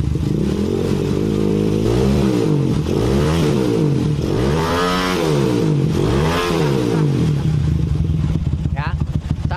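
A Honda GL Pro motorcycle engine revs hard at high RPM, a loud, close, steady roar with rising and falling surges, while someone talks over it.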